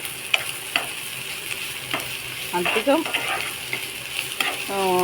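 Dried prawns coated in a spice powder fry in hot oil with a steady bright sizzle, stirred several times with scraping spoon strokes and clatters, close and continuous throughout; a brief voice is heard near the end.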